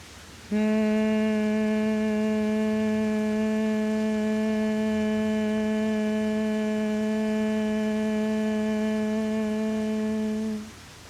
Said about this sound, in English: and then humming on the exhale.